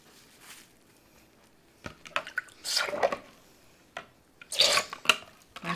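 Water dripping and splashing as nuno felt design elements are wetted and flattened, several wet squishy bursts and dribbles separated by quiet gaps, close and moderately loud, with no talk.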